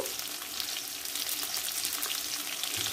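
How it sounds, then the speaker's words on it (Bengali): Potatoes frying in a pan with oil and spices for a Bengali potato-and-fish dish, giving a steady, dense crackling sizzle that stays even and close throughout, with no one talking. "দিয়ে এটাকে আরো কিছুক্ষণ ভালো করে ভেজে নেব"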